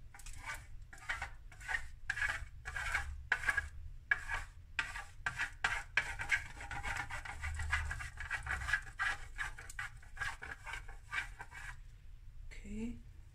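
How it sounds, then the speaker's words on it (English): Chocolate is grated over a berry trifle in a quick, even rhythm of many short rasping strokes, faint and close, with a low background hum throughout. "then some grating of chocolate"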